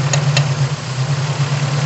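A Toyota Corona petrol engine idles steadily during carburetor tuning, giving a continuous low, even hum with a couple of faint clicks near the start.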